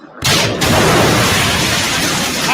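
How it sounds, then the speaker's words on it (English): A big explosion in a film scene bursts in after a brief quiet moment, then roars on as a loud, sustained, broadband rumble that fills the rest of the clip. "got a big explosion"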